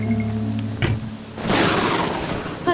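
Heavy rain pours in a dubbed cartoon episode, rising into a loud, dense wash partway through after a brief low rumble and a stretch of tonal background music.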